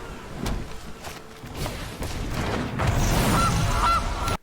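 Geese honking in the card game MTG Arena, several loud nasal calls over busy background clatter and a thump, building toward the end, no talk.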